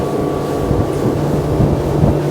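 A 2023 Boston Whaler 250 Dauntless runs at about 4,600 RPM and 64 km/h, its engine a loud, steady low drone mixed with rushing wind and water noise, constant from start to finish.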